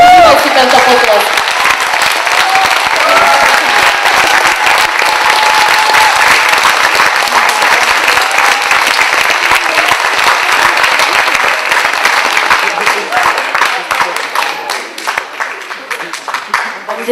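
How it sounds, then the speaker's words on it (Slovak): A large audience at a local talent show bursts into long, loud applause that holds strong for many seconds, then thins slightly toward the end, with a few voices mixed in. "Matúško, užívaj si tento potlesk."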